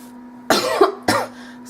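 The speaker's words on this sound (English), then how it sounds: "I have that cough that will not go away" A woman gives two sharp, close coughs about half a second apart in a quiet room with a faint steady hum, the first rougher and longer.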